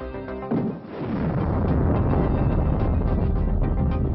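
A deep Big Bang explosion boom erupts, then swells into a sustained, roaring rumble that fills the rest of the clip.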